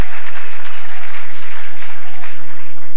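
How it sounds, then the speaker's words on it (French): A church congregation applauds loudly and continuously at a closing service, a dense close wash of clapping that holds steady for the full few seconds. "Voudriez-vous acclamer pour vous-même? Acclamez le Seigneur."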